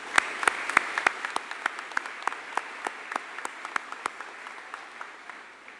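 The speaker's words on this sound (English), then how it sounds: "I would like to give them a round of applause." A fairly quiet crowd at the Crookston High School Class of 2022 commencement applauds the senior speakers, with distinct claps in an irregular rhythm that taper off toward the end.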